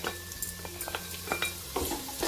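Spices with garam masala and Kashmiri red chilli powder are stirred in a pan, with a soft sizzle and light, irregular scrapes and taps of a spoon, fairly quiet and close.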